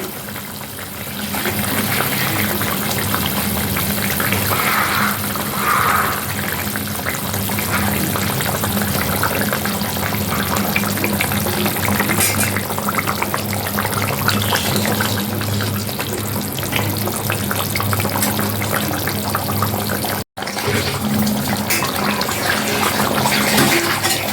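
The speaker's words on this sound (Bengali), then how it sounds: "তো ঝোলটাকে আমি এখন ফুটতে দেব" Spicy egg curry gravy bubbling in a pot, a steady, loud, broadband bubbling and hissing that runs unbroken for about twenty seconds with a brief dropout near the end, no voices over it.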